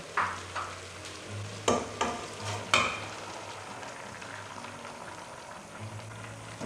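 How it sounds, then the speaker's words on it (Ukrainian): Fresh and soaked sauerkraut cabbage stewing in a pot, a soft bubbling simmer with a few loud spoon knocks and stirring scrapes early on, then settling to a quiet steady stew. "Знову все гарно перемішую, змішую дві капусти, свіжу і квашену"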